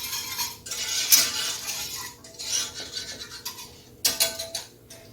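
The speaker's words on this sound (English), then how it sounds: "So, I'll go ahead and stir this up." A utensil scrapes and clinks against a bowl while eggnog spices are stirred, giving a few bright bursts with short quiet gaps between them, close up and with no talking.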